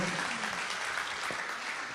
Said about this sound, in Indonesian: Kita berikan tepuk tangan sekali lagi untuk Pak Boyke.